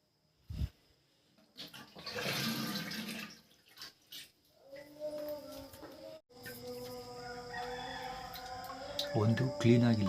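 Water is poured into a clogged toilet bowl, giving a short splashing, rushing burst, followed by quieter water and gurgling sounds with faint background voices.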